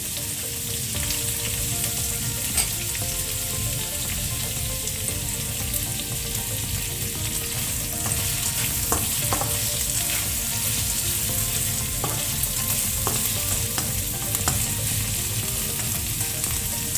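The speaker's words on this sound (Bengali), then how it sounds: "পেঁয়াজটা ভাজা হয়ে গেছে।" Onions frying in a pan on a raised flame, giving a constant loud, close sizzle with occasional stirring scrapes.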